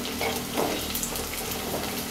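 Small shallots sauté over a medium flame in a pan for a spicy Kerala-style tuna curry, giving a dense continuous sizzle and crackle with faint stirring movements, close and steady throughout.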